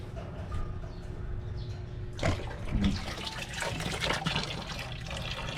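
Water runs steadily from a hose, a broad constant rush with a sharper splashing surge partway through as the flow hits something.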